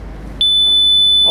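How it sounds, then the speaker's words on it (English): A steady pure tone of about 3500 hertz starts abruptly and holds loud and unbroken, with a fainter higher overtone above it, over a low background hum. "it's a sound of about 3500 hertz"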